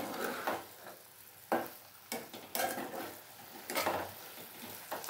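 Mushroom posto is stirred in a hot pan over a high flame, with a soft sizzle under a series of irregular scraping strokes and light clinks of the spoon against the pan.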